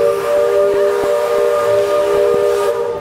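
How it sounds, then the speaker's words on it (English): A steam locomotive whistle at Magic Kingdom blows steadily for about three seconds, a loud sustained multi-tone chord with hiss underneath and faint rhythmic chuffing beats. "Here is our train."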